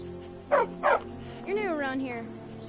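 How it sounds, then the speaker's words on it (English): A dog in the Skyrim video game barks twice in quick succession, then lets out a drawn-out whining yelp, close and clear over a low game background. "That dog looks terrifying."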